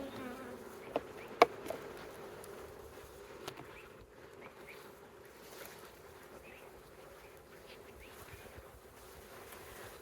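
Honey bees buzz softly and continuously around an open backyard beehive during a frame-by-frame inspection, a faint steady hum with a few brief clicks and knocks.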